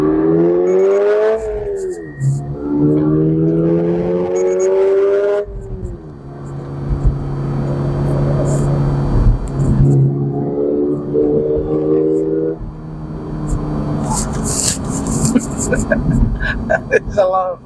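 A 2024 Toyota GR86 Premium with a manual gearbox and a naturally aspirated 220-horsepower four-cylinder engine revs up and changes gear several times, its rising engine tone loud and close, with a voice talking over parts of it.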